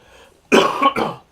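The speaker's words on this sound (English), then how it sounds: "I'm still getting over this cough, but it's getting better." Two harsh coughs close by, a loud first burst followed quickly by a second, from someone still recovering from a lingering cough, against an otherwise quiet background.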